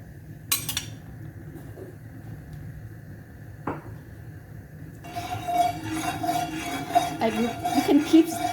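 Coconut milk stirred in a pan over a medium gas flame for Thai green curry, with scattered clinks of a utensil against the pan that give way to a busier stretch of scraping and gentle bubbling near the end.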